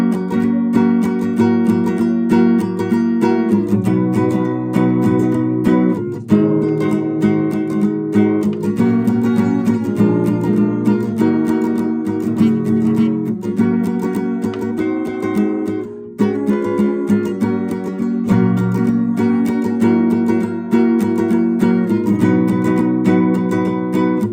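Acoustic guitar playing the last verse of a song, strummed chords with steady rhythm and some sung or hummed melody, loud and close throughout with brief pauses between phrases.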